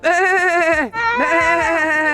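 A man imitates a sheep with two loud, wavering bleats close up, the second following a brief break after the first.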